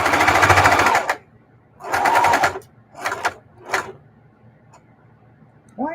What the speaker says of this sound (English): Why am I sewing all fast, knowing that I'm doing a binding and not straight sewing?